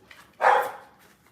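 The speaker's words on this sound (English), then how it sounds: "Sorry, I got a dog. She's very, very excited." A single excited bark from a female dog, close and fairly loud, bursting out briefly against a quiet room.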